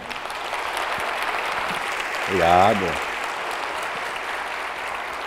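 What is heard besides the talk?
applause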